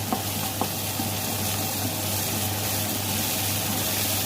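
Chili and garlic frying in oil in a wok, a steady, close sizzle with a couple of faint clinks near the start and no talking.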